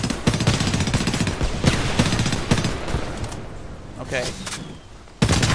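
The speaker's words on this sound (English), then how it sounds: "Epic firefight, if you ask me." Loud, dense automatic gunfire from a Homefront multiplayer team deathmatch on the Lowlands map, sustained rapid bursts that thin out briefly before a sharp renewed volley, with a short spoken word over it.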